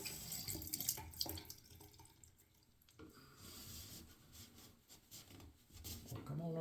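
A small boar-bristle shaving brush is rinsed under a running tap: uneven splashing and rubbing water noise that swells and fades across several seconds, close by, with a brief voice near the end.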